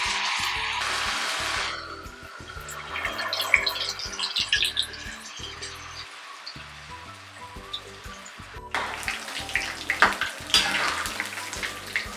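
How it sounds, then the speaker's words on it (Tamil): Curd vada batter balls drop into hot oil and fry with a loud, continuous bubbling sizzle that surges, eases off, then flares up again near the end, close and without talk. "மிக்ஸ் பண்ணி அதை எண்ணெயில் சின்ன சின்ன உருண்டையாக போடணும்"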